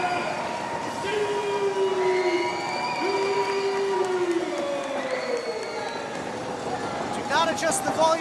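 A wrestling arena crowd roars and cheers for Adena Steele's entrance, a sustained dense wall of crowd noise with whistles and voices layered throughout.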